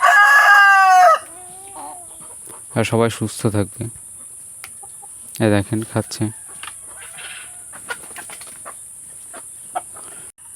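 Farm chickens suffering in intense heat cluck and a rooster lets out a loud crow at the start, followed by scattered clucks and bird noises near the microphone while someone speaks in short bursts.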